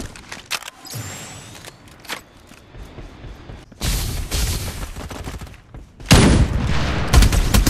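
Heavy automatic gunfire in the Farlight 84 battle game, loud sustained bursts and booms with short pauses between volleys, under dense combat noise.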